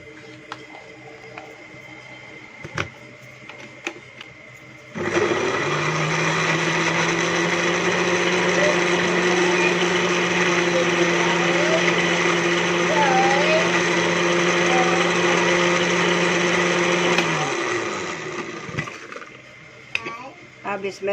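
A blender whirs steadily for about twelve seconds while making a mango milkshake for babies, with a loud constant motor drone that starts abruptly and winds down, framed by light kitchen clatter and someone talking.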